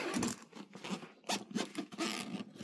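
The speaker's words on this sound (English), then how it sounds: "Where the fuck is the zipper?" A zipper on a drone bag is tugged open in several short, close rasping pulls with brief pauses between them, fairly quiet and with no talking.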